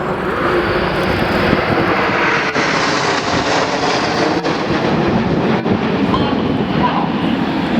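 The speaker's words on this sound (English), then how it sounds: "that's how we fly the perfect Apollo Twister" Red Arrows jets roar overhead during the Apollo Twister manoeuvre at the Leuchars Airshow 2011, a loud, continuous broadband engine rumble filling the whole stretch, steady and close.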